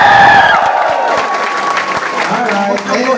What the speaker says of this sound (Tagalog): Okay, palakpak!